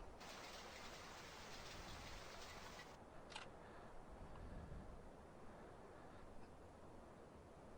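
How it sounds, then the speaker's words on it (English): Rain falling in a farming video game, a dense, even hiss of downpour that stays constant throughout, faint and alone with no voices. "Oh, it's gonna rain."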